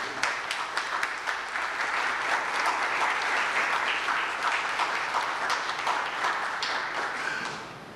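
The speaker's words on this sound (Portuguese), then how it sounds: "Então eu gostaria que nós aplaudíssemos esses ex-atletas que aqui estão, certo?" An audience gives sustained, loud applause for former São José athletes at a ceremony, with dense clapping that holds steady for several seconds before easing off at the end.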